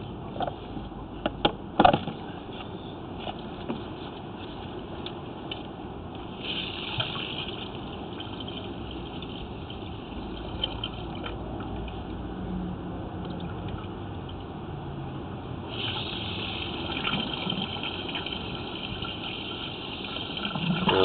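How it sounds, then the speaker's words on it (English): Water runs steadily through a drain pipe in Cornwall, a continuous rushing gush with a few sharp knocks near the start, sounding close and even for the full length with no talking. "So I'm running water in the moment in the drain."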